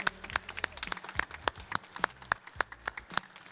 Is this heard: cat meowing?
no